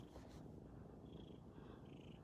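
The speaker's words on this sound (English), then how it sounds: "Do you hear a kitty purring?" A small pet cat purrs steadily and softly close by, a low continuous rumbling hum with no talking over it.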